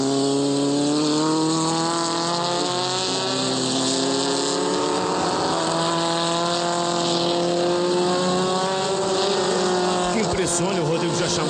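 Volkswagen Spider prototype race cars with tuned P2000 engines of about 200 to 220 horsepower roar steadily through an endurance race at Londrina, a loud continuous engine drone with rising and falling pitch under commentary.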